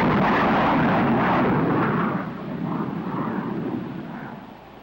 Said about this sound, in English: Now we are approaching with the afterburner in operation.